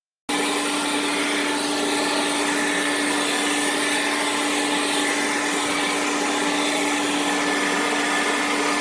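A NASUM 40V 4.0Ah cordless leaf blower kicks on abruptly and runs at a loud, steady whine with a constant rushing airflow that holds without a break.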